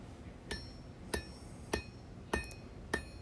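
Hand hammer striking a small 1/8 inch 1095 steel knife blade on an anvil, five bright ringing blows at an even pace of about one every 0.6 seconds, close and clear with no speech.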